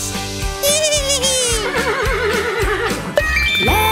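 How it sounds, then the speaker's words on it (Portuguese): A Breton horse neighs in a long, wavering, high whinny that rises and falls over bright, busy music. "É o cavalo bretão."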